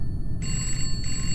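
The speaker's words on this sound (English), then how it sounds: "Oh, the phone's ringing." A telephone bell rings in a horror video game, a sharp electronic trill that starts abruptly and repeats in a short burst over a low, steady ambient drone.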